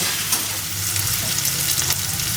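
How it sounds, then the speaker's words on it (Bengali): Chopped onions fry in a pan, giving a loud, close, continuous sizzle with crackles and stirring scrapes over a couple of seconds, and no voices. "পেঁয়াজটা লাল লাল করে ভেজে নিই"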